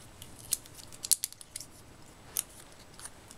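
Die-cut paper shapes from a Hero Arts die cut set popped out of their sheet one by one, giving a handful of sharp, crisp paper snaps and crackles, close and fairly quiet, with brief pauses between them and no talking.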